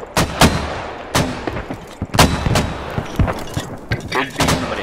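Gunfire and heavy shell impacts in the military shooter Squad during a mortar barrage: loud, sharp bursts in irregular clusters, with faint voice chat underneath.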